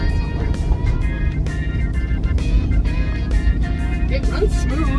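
A 1989 Jeep Wrangler engine runs steadily at close range, its low, even rumble continuing throughout with occasional voices speaking over it.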